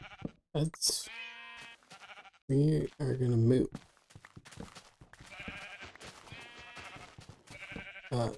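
Minecraft sheep bleat several times in short wavering calls, loud and close, mixed in with someone talking over the game.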